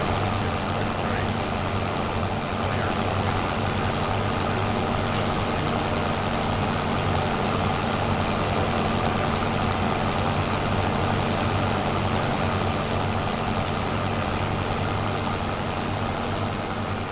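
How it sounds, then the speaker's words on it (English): Tractor engines from Farming Simulator 25, including a Ford, drone and idle steadily in a heavy, low rumble that runs continuously at an even level, with a voice talking over it. "All the tractors sound great."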